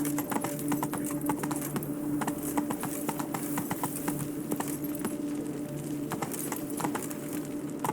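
Roach the horse clip-clops steadily across the ground in The Witcher 3, with an even, continuous hoof rhythm and a faint background hum and no voices.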